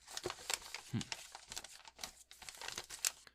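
Crinkling paper as a letter is unfolded after being taken out of a package that also holds VHS tapes, with close, dry rustles and crackles coming in irregular bursts and no talk.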